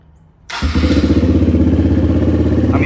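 A 2008 Kawasaki KLR 650 motorcycle in a budget supermoto build starts after a quiet moment, catching with a thump and settling into a loud, steady, close single-cylinder idle.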